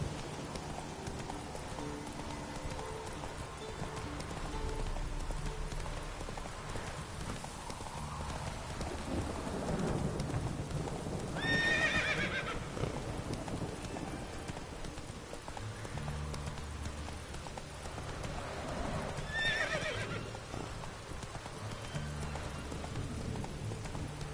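Roach, the horse in The Witcher 3, gallops with a steady clip-clop of hooves over a continuous wash of rain and low rumbling thunder, with faint game ambience throughout.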